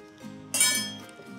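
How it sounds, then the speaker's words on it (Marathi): A lid is set on a cooking pan of cabbage bhanole, one sharp ringing clink that fades quickly, near and alone. "आता यावर झाकण ठेवूयात"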